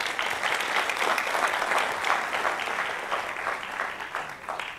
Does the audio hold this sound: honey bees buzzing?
no